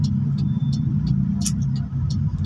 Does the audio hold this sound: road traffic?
yes